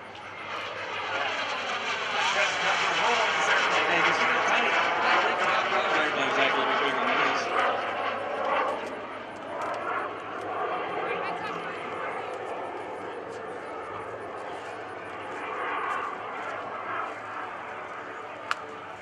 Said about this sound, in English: the BD-5J design is recognized by Guinness Book of Records as the world's smallest jet